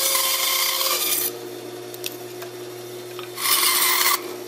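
Saw cutting the side profile out of a wooden blank for a fishing spear decoy: a loud rasping cut at the start, a quieter stretch with faint clicks, then another sharp burst of sawing near the end.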